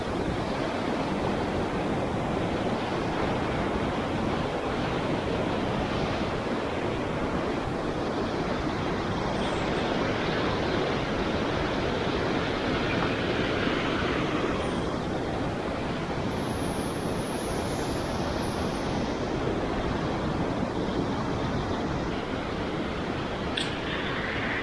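A waterfall beside a hiking trail on a backcountry trek along an avalanche path produces a loud, steady, broadband roar of rushing water, continuous and close throughout with no talking.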